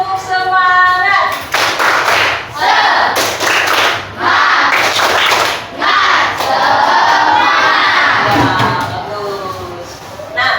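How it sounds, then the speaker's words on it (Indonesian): A classroom of students performs a rhythmic spirit clap, with loud patterned bursts of hand claps and voices chanting together in time, punctuated by brief pauses. "Bagaimana kalau kita tepuk semangat dulu? Supaya kita semangat. Tepuk semangat."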